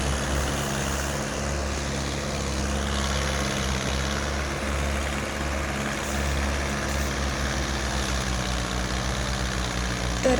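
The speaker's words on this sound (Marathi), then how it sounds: "दुसरा ट्रॅक्टर लावून ओढतायत" Tractors haul a full trolley of sugarcane, stuck on a ridge, out of a farm field with a second tractor pulling. A steady, loud, low engine drone with a constant rumble runs throughout, and no one speaks.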